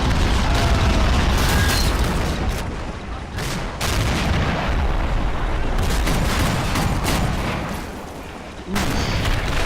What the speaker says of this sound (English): I'm gonna have this guy fire at them mortar